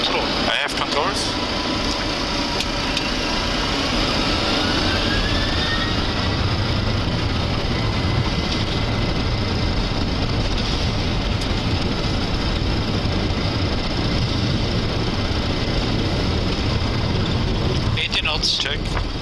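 Boeing 737-800 jet engines at takeoff heard from the cockpit as a loud, continuous roar with a faint rising whine, while pilots speak over it.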